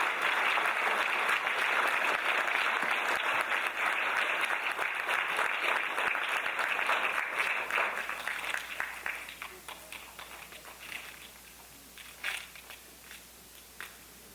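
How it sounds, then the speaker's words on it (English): Audience applause at a Bharatanatyam arangetram dance debut: dense, sustained clapping fills the hall for about eight seconds, then thins out into scattered individual claps that fade away. "Everyone give a big round of applause for Srimati Bindu Shankar."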